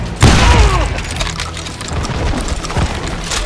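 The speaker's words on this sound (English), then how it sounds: "They're shooting in the street!" Gunshots and crashing impacts ring out in a Call of Juarez Gunslinger street shootout, led by a loud boom near the start, then scattered shots and thuds over a steady backdrop of game noise.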